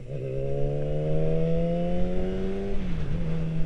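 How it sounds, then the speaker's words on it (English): A motorcycle engine drones up through the gears in a rising whine, then drops and settles, close and steady. "Sure, yeah, I'm on a motorcycle."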